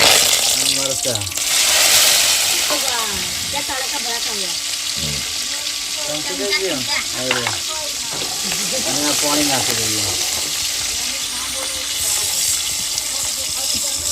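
Mustard seeds and chillies crackling in hot oil for a khaman tempering, a steady sizzle with bursts of popping and stirring while a voice talks intermittently over it.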